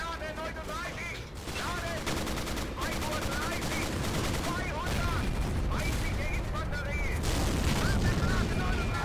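Tank cannon and machine-gun fire in the WWII tank combat game Steel Fury, with repeated bursts and booms over a constant loud engine rumble, while a person talks over the action.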